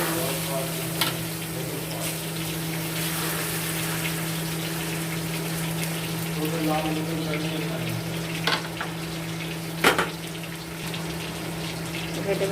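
Mustard oil sizzles and fries steadily in a pan while vegetable roll filling cooks, a continuous close hiss with a low steady hum beneath and a few brief louder crackles and clinks.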